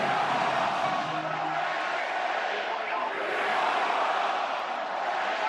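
A packed stadium crowd at an Oregon Ducks versus Penn State football game roars loudly and continuously, with broad cheering and yelling and a commentator's voice running over it.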